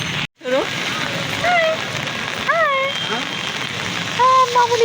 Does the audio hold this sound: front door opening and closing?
no